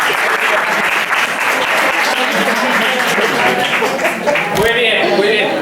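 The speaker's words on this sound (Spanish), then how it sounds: "Un aplauso para..." Sustained, dense applause from a lecture audience fills the whole stretch, loud and even, with a brief dip near the end as the clapping starts to fade.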